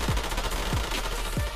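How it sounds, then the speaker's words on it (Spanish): Gunfire in the Army Men RTS video game, a few distant shots punctuating a steady dense wash of battlefield noise, brief and evenly spaced over a continuous background din. "¡Nos dispara!"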